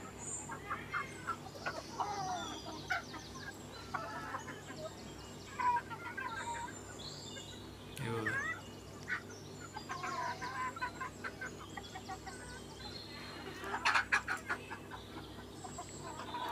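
Country chickens on a small village poultry farm in Antravali, Sangameshwar, Ratnagiri, clucking softly and intermittently nearby, with scattered calls and a low background hum, a voice speaking briefly among them.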